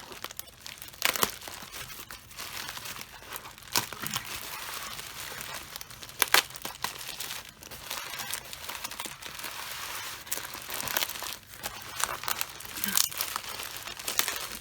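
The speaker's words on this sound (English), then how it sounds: "everything's in bubble wrap, so it's well protected" Steady crinkling of plastic packing material, dense crackles and pops with a few sharper bursts, close up and continuous throughout.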